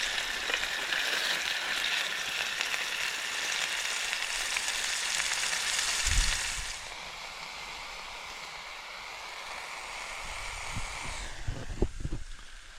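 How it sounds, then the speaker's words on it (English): Mince browns in a pan on a Trangia camping stove during a wild camp in the Cheviots: a continuous sizzling hiss that drops to a softer level partway through, ending with a few light knocks and scrapes. "So as you can see, I've browned off the mince,"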